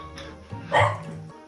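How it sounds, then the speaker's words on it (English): Several dogs barking in a burst close by, with a loud bark peaking in the middle and quieter yips around it, heard during a party game stream. "Apologies for the dogs."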